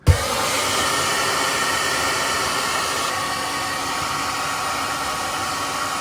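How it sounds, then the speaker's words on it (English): A hair dryer melts built-up ice inside a Samsung refrigerator's leaking freezer, a steady, close, loud broadband blowing hiss that starts abruptly and holds constant throughout with no talking. "hair dryer."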